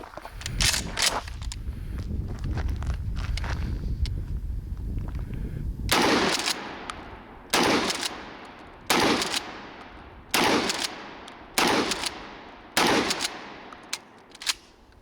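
A Mossberg 590A1 Retrograde 12 gauge pump shotgun fires outdoors, six loud, sharp blasts spaced about a second and a half apart, each followed by a short echo, with handling noise before the first shot.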